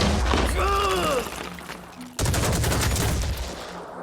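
Gunfire in a turn-based tactical video game: a rapid burst of shots, a short pause, then a second loud volley crackling and fading out.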